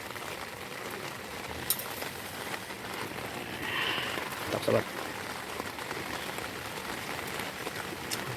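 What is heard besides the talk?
heavy rain at a beach campsite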